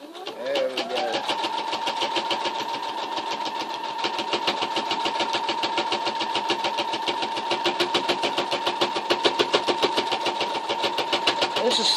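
A sewing machine stitches a pocket bow through thick material, a steady fast mechanical whir and rapid needle clatter running continuously and close up.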